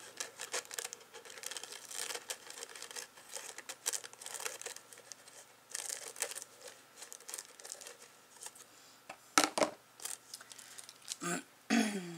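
Scissors cutting paper for a mixed-media craft project, with a long run of close, quiet crinkly snips and rustles, followed by a few louder handling clicks and crinkles near the end, and no talking.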